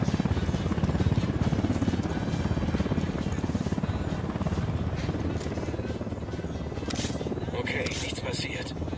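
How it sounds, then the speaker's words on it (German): Helicopter in the video game Ghost Recon Wildlands, a steady loud rotor drone filling the whole stretch, with brief sharper bursts near the end. "Ein Heli, los, runter."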